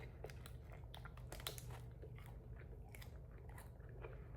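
Someone chews a protein bar close to the microphone, with soft, quiet bites and repeated crunching and squishing sounds in an uneven rhythm.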